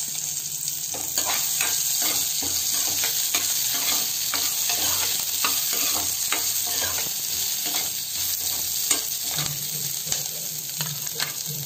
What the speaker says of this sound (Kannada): ಸಣ್ಣೂರಿನಲ್ಲಿ ಫ್ರೈ ಮಾಡ್ಕೊಳ್ಳಿ.